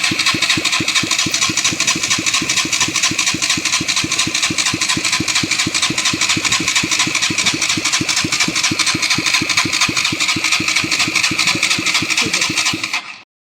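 A KTM Duke 125 motorcycle engine being turned over on battery power during an oil supply check: a loud, rapid, steady mechanical chugging that runs evenly throughout, then cuts off abruptly at the end.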